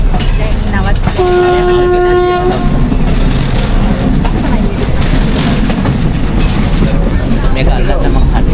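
Train at Watawala station in Sri Lanka, loud and close with a continuous rumble, a brief horn blast near the start, and people talking over it.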